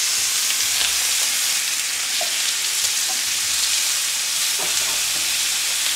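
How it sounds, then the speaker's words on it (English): Meat searing in a hot pan, a loud, continuous close-up sizzle and crackle that holds steady for the whole stretch, with a few small pops and stirring knocks. "let's just let it sear on that side"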